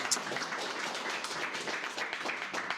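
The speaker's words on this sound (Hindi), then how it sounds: "इनके टीचर के लिए बहुत जोरदार ताली बजाओ।" Students in a mobile repairing class clap for their teacher, a soft continuous patter of scattered hand claps, fairly faint, with a little talk underneath.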